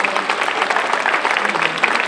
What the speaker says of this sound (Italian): Ancora un altro applauso forte